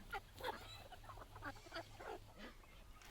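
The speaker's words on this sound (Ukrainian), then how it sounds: "чуєш, як тебе ці качечки і кури гукають" Ducks quack and chickens call together in a busy, overlapping chorus, close by, with a steady low hum underneath.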